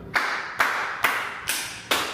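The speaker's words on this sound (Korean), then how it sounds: "박수! 다 같이 박수!" Five slow, evenly spaced hand claps, each a sharp, fairly loud smack about half a second apart, with no other voices or sounds between them.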